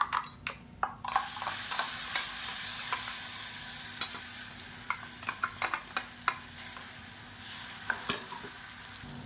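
Thick red chutney paste sizzles and spits in hot oil, with scattered pops and crackles and occasional stirring scrapes, steady and close with no voices.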